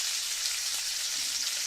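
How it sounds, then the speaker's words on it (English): A sizzling sound effect plays on a talk radio show. It is a steady, bright hiss of crackling, like frying, that runs on without a break, and no speech is heard. "Let's find his sound. Sizzle Chest is here. Sizzling on a Monday during the not-so-serious news"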